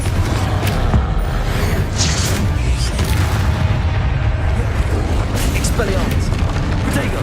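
Confringo blasting spell from the game Hogwarts Legacy, bursting as booming explosions amid dense, continuous combat noise, with repeated sharp impacts throughout and a voice shouting over the action.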